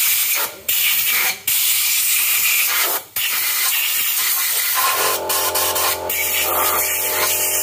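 Pressurized spray hisses loudly onto a disassembled Kijang diesel engine part to flush its oil holes, coming in several long bursts broken by short pauses, followed by a softer, steadier hiss.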